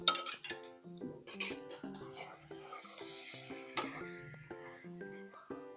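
A spoon scrapes and clinks in a pan as chopped eggplant and broad bean pods are stirred together with spices, irregular close metallic taps and scrapes with a quiet voice underneath.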